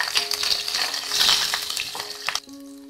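Green chillies and curry leaves with mustard seeds fry in hot oil in a pan, giving a bright crackling sizzle with sharp pops and spatters that suddenly cuts off near the end, leaving a faint hum.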